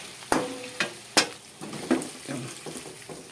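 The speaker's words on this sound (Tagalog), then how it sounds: "Magigisa ng ricado." Garlic and onion aromatics sauté in hot oil for chicken and pork adobo. A steady close sizzle runs under several sharp clanks of a utensil scraping and stirring in the pan, with no voices.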